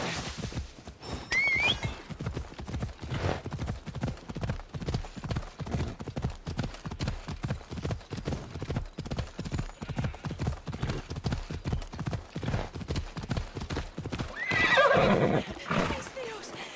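Horse hooves galloping in Assassin's Creed Odyssey, a steady rapid clip-clop close by for the whole stretch, with brief whinnies near the start and end and faint speech underneath.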